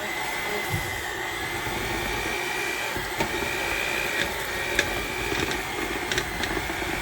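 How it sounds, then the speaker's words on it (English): A blender whirs steadily while mixing cream cheese cheesecake batter with sour cream and powdered sugar, a continuous motor drone with faint clicks and a few small knocks, heard alone without talk. "I'm going to start by blending up. Try to mix this."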